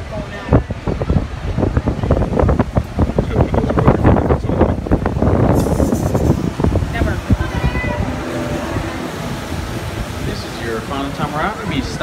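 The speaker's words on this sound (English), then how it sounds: "Little bit windy today" Strong wind buffets the microphone beside a Ferris wheel at an amusement park, a loud, steady rushing roar with gusty swells throughout.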